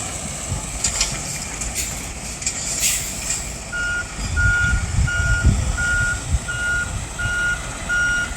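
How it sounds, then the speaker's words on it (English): A big truck turns around while reversing, its backup alarm beeping in an even, repeated rhythm over a low, rumbling engine, moderately close and with no talk. "Look at this big old truck turn around in here."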